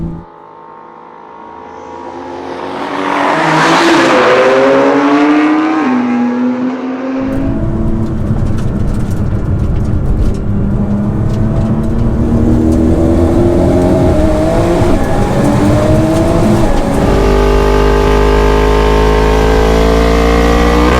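An 1100HP Nissan R35 GTR races a 900HP Porsche 911 Turbo S on the street, with loud close engine roar rising through rapid gear-change sweeps, an abrupt jump in intensity partway through, then sustained high-revving acceleration.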